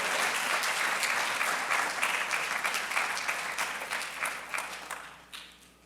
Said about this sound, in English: You can applaud for your fellow students.